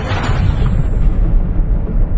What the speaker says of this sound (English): you're surprised by the sound of artillery